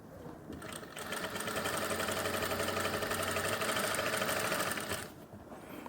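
A sewing machine stitches along the very edge of a women's pant, its fast, even, rattling whir close and steady for about four seconds between quieter moments at the start and finish.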